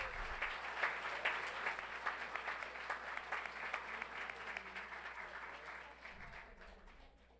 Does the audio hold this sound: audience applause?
yes